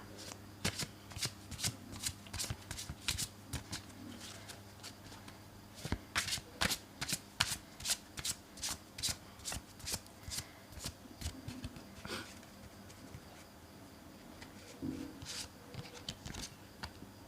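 Tarot cards are shuffled over and over, making a crisp run of riffling snaps and slides in a steady, quick rhythm. The sound is close but fairly quiet, with soft background hum.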